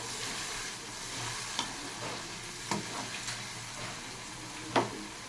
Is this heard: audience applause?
no